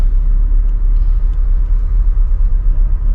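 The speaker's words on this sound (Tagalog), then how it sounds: "Isang truck." A new truck engine rumbling close by, a loud, steady low idle drone that holds constant throughout with no voices.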